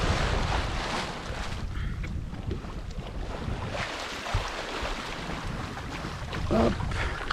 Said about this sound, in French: un petit bruit sympa de l'eau contre la coque